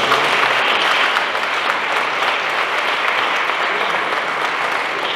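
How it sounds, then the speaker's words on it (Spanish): An audience at a public community support handout event claps steadily for about five seconds, a dense sustained wash of applause from a sizable crowd. "pido un aplauso para todos estos municipios"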